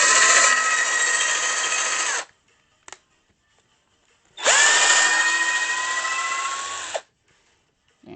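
A power drill pre-drills into wood in two long loud bursts of a few seconds each, separated by a short quiet gap with a faint click.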